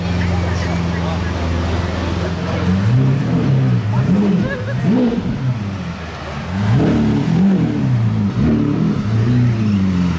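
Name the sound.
yellow Lamborghini hypercar driving past in Monaco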